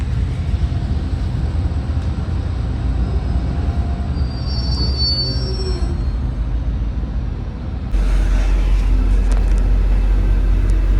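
A V/Line N class train on the Swan Hill line rumbles past close by, with steady heavy low-frequency roar, metallic wheel squeals, and a louder burst of rushing noise near the end.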